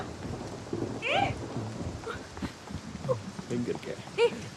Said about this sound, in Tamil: ஏய் மழை வருதுடா